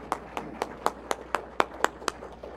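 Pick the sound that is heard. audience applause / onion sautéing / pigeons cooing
audience applause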